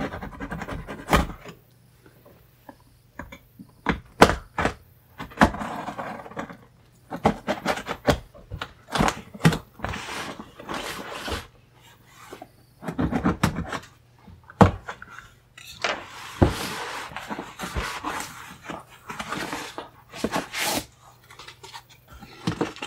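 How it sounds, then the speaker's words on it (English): A steak knife cutting open laptop box packaging for a Tuxedo Polaris laptop, with scattered scraping, tearing and cardboard handling sounds, intermittent sharp clicks and rustles close by, without talking. "Got my trusty old steak knife here"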